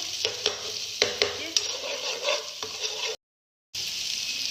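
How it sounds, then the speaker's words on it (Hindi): Garlic and ginger paste roasting in a pan for a dry mutton roast: a steady sizzle with repeated scraping stir strokes, close and fairly loud, then a short pause before the frying resumes. "अब इनको हम थोड़ा सा रोस्ट करेंगे, जैसे कि इनकी थोड़ी सी कलर चेंज हो"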